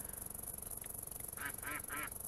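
Ducks in the game Grass Cutter give three quick nasal quacks in a row, fairly close, over a constant buzzing game background.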